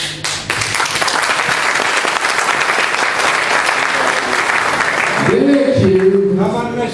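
Audience applause in a hall at a Turkism Day speech in Konya, 2013, a dense sustained clapping crowd that runs for most of the stretch before fading under a raised voice near the end.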